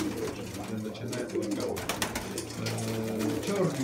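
Pigeons coo in a loft, a black bird among them, their low, rolling calls repeating steadily at close range over a constant hum and some faint talk.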